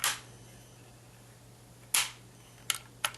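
Sharp metallic clicks of the safety switch on an M1 Carbine or Mini-14 rifle: one crisp click at the start, another near two seconds, then two quick clicks close together, separated by near silence.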